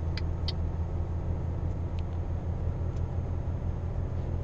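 Truck engine in Euro Truck Simulator 2, a steady low rumbling drone under light road noise, continuous and fairly loud, with a couple of faint ticks early on and no talking.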